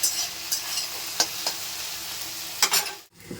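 Okra (bhindi) fries in a pan with a continuous close sizzle, broken by a few sharp stirring clicks and scrapes, ending in a sudden cut-off, no voices.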